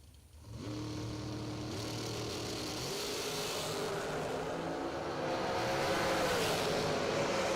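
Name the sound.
Shorty Dragster race cars launching at drag race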